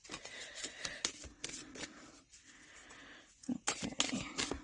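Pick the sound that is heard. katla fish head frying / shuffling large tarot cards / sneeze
shuffling large tarot cards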